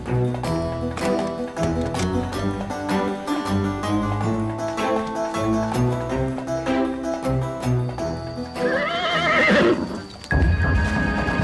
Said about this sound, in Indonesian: Abi ambil kuda dulu.